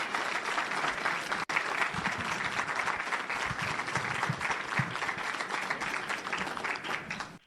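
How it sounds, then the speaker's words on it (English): Crowd in a hall in Gettysburg giving Rudy Giuliani a long, even round of applause after his introduction, a steady roar of many hands clapping that holds for several seconds before tapering off. "It's a long round of applause."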